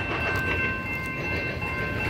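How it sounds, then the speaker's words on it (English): A Union Pacific double-stack freight train rolls past close by, a steady broadband rumble of cars with faint clatter and a thin high squeal, loud and continuous with no talk. "That was not a long Union Pacific train."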